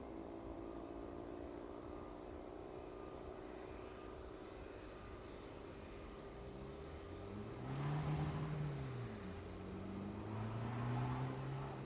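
A jet aircraft taxis at East Midlands Airport, making a right turn toward the DHL apron, its engines a steady hum that swells louder midway as it turns, with faint broad rumble throughout and no talk.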